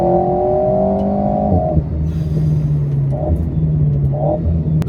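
An Alpine A110 sports car engine drones loudly from inside the cabin, its pitch rising and then dropping at a shift, with faint whistling turbo notes on top and brief blips afterward.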